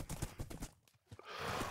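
A horse's hooves clip-clop in quick, even steps in the TerraFirmaCraft video game, moderately close, then give way to a soft, steady hiss.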